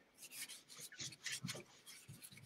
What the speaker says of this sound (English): you just take the clear, a little shop towel with the Best Day Wax clear, and you can like rub over it and kind of blend it out